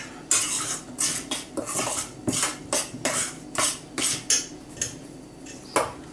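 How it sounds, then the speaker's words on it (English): A utensil clinks and scrapes against a bowl as salt is mixed into a dry mixture for no-bake tea cakes, in about a dozen sharp, irregular strokes heard up close with no talking. "we want a teaspoon of salt, and we mix that together"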